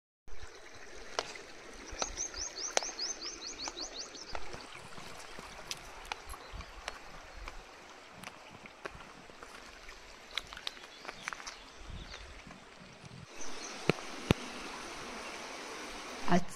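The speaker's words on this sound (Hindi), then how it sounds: "तो उसमें पानी की आवाज़ सुन सका है" Stream water flows steadily beside a mountain temple set on a hillside river bank, a continuous trickling wash at moderate distance, with scattered clicks and brief bird-like chirps over it.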